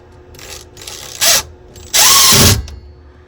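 Power drill driving screws to attach a part of a river side table, two short loud whirring bursts, the second longer, between quieter handling clicks and clatter.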